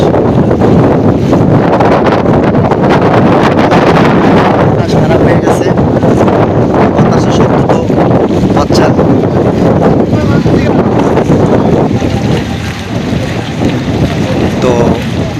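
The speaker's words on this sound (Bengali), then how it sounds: "তো প্রচুর বাতাস" Strong storm wind roars and buffets the microphone continuously and loudly, a dense rushing rumble that barely eases throughout, in darkness by a river in Chandpur, Bangladesh.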